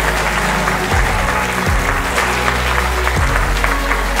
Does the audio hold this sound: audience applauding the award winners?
yes